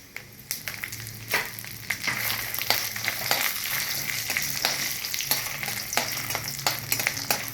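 Cumin seeds and green chilies fry in hot oil, with a continuous close sizzle and crackle broken by repeated scraping stirs of a spatula in the pan.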